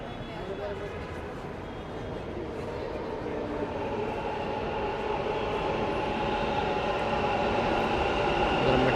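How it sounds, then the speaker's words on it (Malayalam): A metro train pulls into the station with a steady broadband rumble and rush of wheels that grows gradually louder over several seconds, filling the platform with continuous noise. "മെട്രോ എത്തി."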